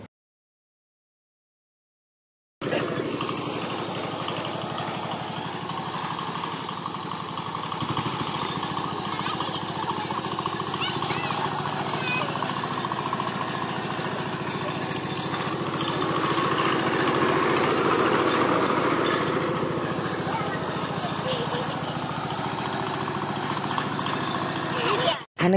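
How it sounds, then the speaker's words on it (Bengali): An engine-driven paddy threshing machine runs in a village rice field, a steady, loud mechanical drone starting after a short silence and holding without a break, with a voice speaking over it. "আমার চাচাতো ভাই মেশিন স্টার্ট দিয়েও চালানো শুরু করে দিছে। দেখুন কিভাবে মাড়াই করতেছে।"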